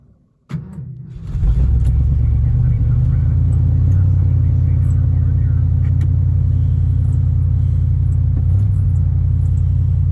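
An old car engine cranks and catches after a short quiet moment, then settles into a loud, steady low idle that runs alone for several seconds while warming the oil.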